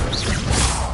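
Quick fiery whoosh and crackling burst of the Confringo fire spell in Hogwarts Legacy, a dense roar with a low rumble, lasting about a second.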